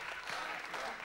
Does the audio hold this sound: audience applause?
yes